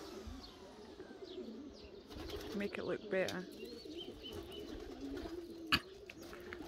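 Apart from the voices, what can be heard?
birds cooing in a shed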